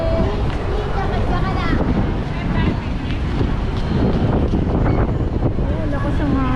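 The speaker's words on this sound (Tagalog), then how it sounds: "lakas ang hangin" Strong wind buffets the microphone in a constant roar on Hidalgo Street, Manila, with people talking nearby underneath the gusts.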